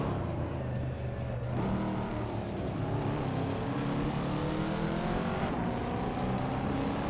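A 1982 Holden Commodore race car in a racing video game drones steadily at speed, its engine note rising and shifting as other cars pass close by, with no talk.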